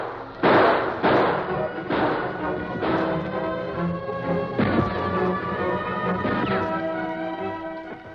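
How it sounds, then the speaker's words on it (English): Bullets thud into wooden wagons in a radio drama, a series of dull heavy impacts at uneven intervals about a second apart, with a faint voice at times. "intermittent bullets thudding into wagons"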